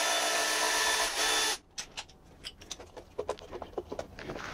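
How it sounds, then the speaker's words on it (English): A 10 mm socket wrench works a bolt loose on the air injection system of a 3UR-FE engine in a Toyota Tundra. Steady mechanical whir at first, then a series of short, sharp clicks and ratcheting taps, close up, with no talk. "need our 10 mil again to unbolt this thing"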